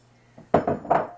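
A spatula folds stiff whipped egg whites into a bowl of chunky apple muffin batter. A few soft, close scrapes and taps on the bowl come in a quick cluster, with no talking.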